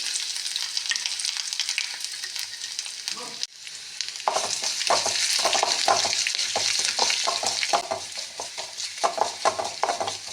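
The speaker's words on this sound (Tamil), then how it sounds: "பொடிப்பொடியாக நறுக்கிய பூண்டு இஞ்சியை சேர்த்து லேசாக வதக்கவும்" Garlic and ginger sizzle in a hot pan, with a brief quiet gap, then louder frying and repeated scraping stirs of a utensil.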